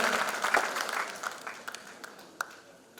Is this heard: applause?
yes